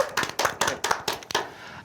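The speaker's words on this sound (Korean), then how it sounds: "자, 한번 박수로 청해 듣도록 하겠습니다." Rhythmic clapping during a Korean talk show, roughly seven sharp, evenly spaced claps close by, fading out after the last one with no talking over it.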